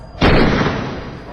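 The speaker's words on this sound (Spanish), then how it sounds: "el primer disparo que sonó acertó en el vientre de su esposa" A single loud gunshot effect in a narrated Spanish horror story, a sudden close blast that fades into a long, roomy decay.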